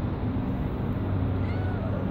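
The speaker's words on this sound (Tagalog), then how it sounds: "Kawawa naman itong pusa." An injured cat that cannot walk, found in a parking lot, meows steadily and close by over a constant low background rumble, with no talking.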